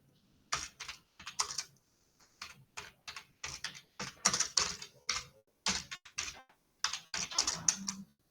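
Rapid, irregular bursts of keystrokes on a computer keyboard as text is entered into a Canva design, close and clear with short pauses between runs of typing.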